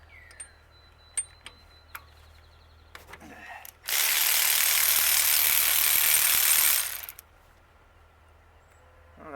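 A ratchet wrench clicks in short bursts while loosening oily, caked NGK spark plugs from a rat rod's engine, followed by a loud, steady rushing noise lasting a few seconds before it stops.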